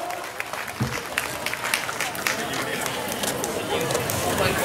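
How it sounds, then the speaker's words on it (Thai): An audience at an opening ceremony for a jasmine rice and green market fair in Nakhon Phanom claps after a countdown, the applause swelling over several seconds, with a voice speaking over it and crowd chatter around. "ขอเสียงปรบมือดังๆด้วยนะครับ"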